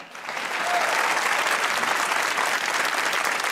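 A comedy talk show studio audience breaks into applause, swelling within the first half second into a steady, dense roar of clapping that carries on alone.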